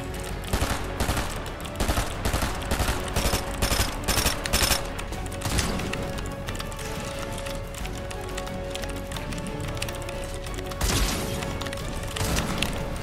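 Dense, loud bursts of gunfire and sniper shots crack rapidly in a Fortnite match, rattling in clusters over several seconds and then easing into a quieter, busy stretch before another sharp burst.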